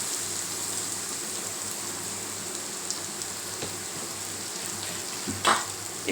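Asafoetida sizzles in hot oil over a low gas flame for tomato sambar, a steady soft crackling hiss with a few faint taps and a brief stir near the end.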